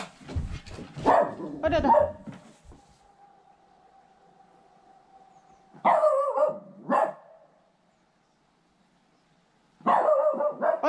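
Hunting dogs barking in the autumn countryside near a cottage, heard as several bursts of barking in quick clusters with a long lull between them, while a person speaks briefly at the start.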